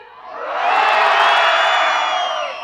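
A crowd of boys on a festival ground loudly shouts a sustained "oh" toward the stage, a dense roar that swells, holds for a couple of seconds and fades slightly.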